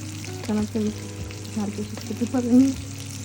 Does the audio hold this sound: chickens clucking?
no